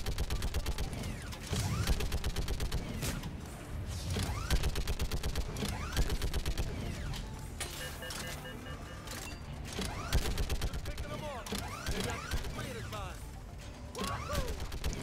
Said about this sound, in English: Oh snap, we got some turret action.